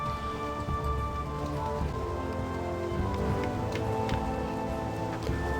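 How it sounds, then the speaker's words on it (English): Rain beats down relentlessly in Baldur's Gate: Enhanced Edition, a constant patter of drops on surfaces layered over a low, droning game ambience with no speech. "the rain beating down relentlessly for several hours"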